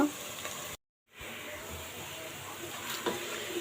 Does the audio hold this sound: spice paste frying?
yes